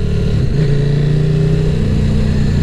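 A KTM 1190 RC8 R sport motorcycle engine hums steadily while riding, loud and close, with a steady drone and a slight pitch rise, with no talking.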